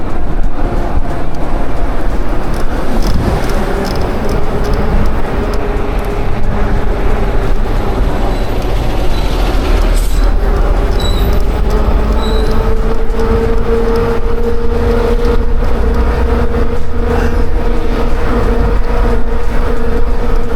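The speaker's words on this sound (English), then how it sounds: "Traffic is a little bit crazy." City street traffic rushes past an e-bike rider on a Cyke Falcon eMTB cruising around 23 mph, with a steady broadband road roar, rising engine drones from passing vehicles and buffeting wind noise throughout.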